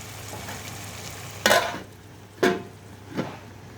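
Chicken curry with tomato frying in a pan, heard as a low steady sizzle with three distinct stirring scrapes spaced about a second apart, nearby and moderately quiet, with no talk.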